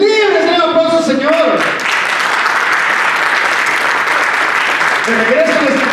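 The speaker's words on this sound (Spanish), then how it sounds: "Un aplauso al Señor." A church congregation breaks into sustained applause lasting several seconds, the dense clapping filling the room, with a voice heard just before and again as it ends.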